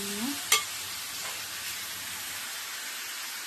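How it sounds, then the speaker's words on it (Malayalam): Chicken perattu stirred and frying in a pan: a continuous hissing sizzle with scraping stir strokes and one sharp utensil clink near the start, loud and close with no talking. "നന്നായിട്ട് ഇളക്കി കൊടുക്കും"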